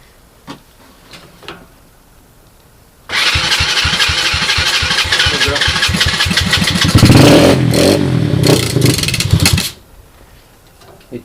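A 2007 SSR 125cc pit bike engine starts and runs loudly up close for several seconds with a rapid, rough, pulsing beat, revving slightly before cutting off, preceded by a few faint clicks.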